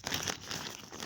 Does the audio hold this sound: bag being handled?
yes